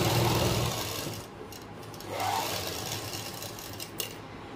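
A sewing machine whirs steadily while stitching a pocket onto pants, with a continuous mechanical hum that dips and resumes as the stitching pauses, and a small tap near the end; fairly close and moderately loud, with no talk.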